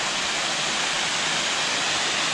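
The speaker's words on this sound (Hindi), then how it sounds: "ये देखिए तो ज़बरदस्त वाटरफॉल है ये एक छोटा सा सिंपल" A small hidden waterfall swollen by the monsoon pours with a steady, dense rush of white noise. It sounds close and continuous, with no voices over it.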